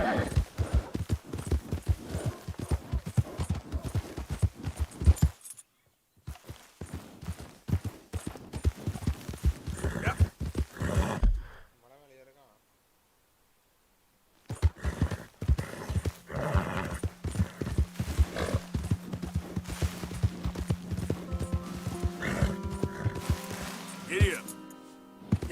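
A horse gallops in Red Dead Redemption 2 with rapid clip-clop hoofbeats in bursts, broken by a pause, along with a whinny and occasional voices.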